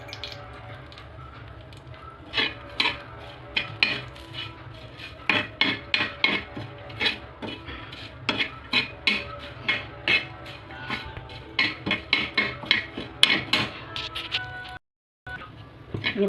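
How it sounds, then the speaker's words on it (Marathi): Stone flower spice roasts in oil on a griddle while a spatula scrapes the metal again and again. The short strokes come in a steady, repeating rhythm, and there is a brief silent gap near the end. "आता आपण त्याच तव्यावरती फूल टाकून भाजून घेणार आहोत।"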